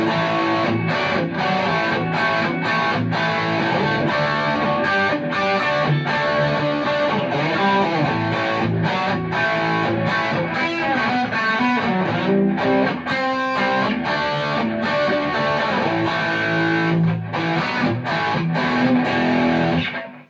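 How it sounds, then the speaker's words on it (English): A heavily distorted electric guitar through a Blackstar Amped 2 pedal plays continuous chords and riffs with a thick, fuzzy, saturated tone at steady loudness, with no voices. "you've got a bit of a classic distortion"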